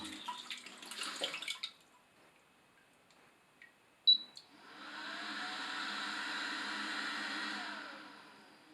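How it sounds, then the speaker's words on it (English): A brief click, then the air dryer of a bidet toilet seat whirs on with a steady airy hiss for a few seconds before winding down. "So we can go ahead and put the dryer on."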